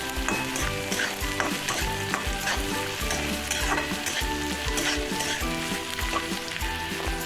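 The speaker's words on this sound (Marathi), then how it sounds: "शेंगदाणे टाकून अजून थोडं हलवून घ्यायचं" Steady frying sizzle with repeated scraping strokes of a spoon stirring peanuts and onion in a pan, continuous and close, no talk.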